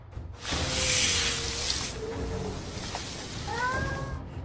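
A cat outdoors by a strange creature rolling in the dirt gives a few drawn-out meows and caterwauling cries, close and fairly loud, over a hissing broadband background.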